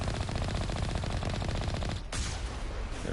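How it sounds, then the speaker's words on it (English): Sustained rapid automatic gunfire in the Mass Effect video game rattles continuously and loudly with a dense rhythmic stutter, pausing only for a brief break before resuming with no talk over it. "Oh, I'm shooting at a rock."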